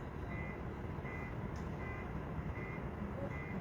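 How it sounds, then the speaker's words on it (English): A car alarm sounds outside, heard as faint, distant electronic beeps repeating at an even pace under a steady background hiss. "Is that someone's car alarm outside?"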